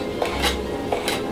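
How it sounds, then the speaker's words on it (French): A knife cuts fresh homemade pasta into linguine or fettuccine strips, making two soft, separate knocks of the blade against a board, close and quiet. "Je n'ai pas l'option sur la machine pour les linguini ou les fettuccini, donc je fais ça au couteau, comme ça."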